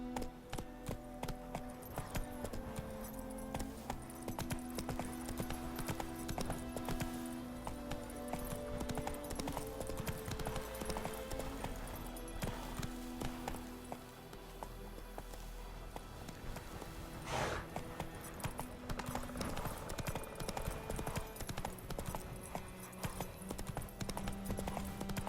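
Rapid, rhythmic hoofbeats of the horse Roach galloping in The Witcher 3, a dense steady clip-clop layered over game ambience, with a brief whinny midway.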